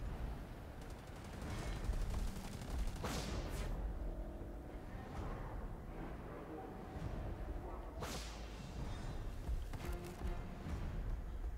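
Gunfire in the game Predator: Hunting Grounds, with sharp whip-like cracks around three and eight seconds over a dense, steady bed of in-game noise and scattered shots.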